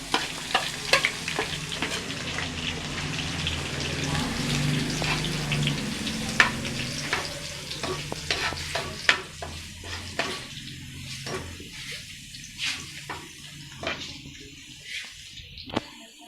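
Cumin seeds, whole dried chillies and onions tempering in hot oil for a mixed moong, masoor and chana dal: a steady close sizzle and crackle with stirring scrapes and small clinks throughout, thinning toward the end.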